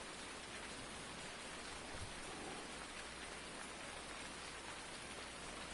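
Steady rain falling in the Farming Simulator 19 video game, a dense, even hiss of drops on surfaces that holds constant throughout, with no voices over it.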